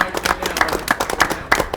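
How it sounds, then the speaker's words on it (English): A short burst of applause, with many hands clapping quickly and unevenly from a nearby small crowd at a poker tournament final table at Ameristar East Chicago casino. "Let's give Mike a round of applause in the 6th seat."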